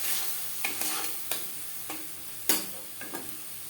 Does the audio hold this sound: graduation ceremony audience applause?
no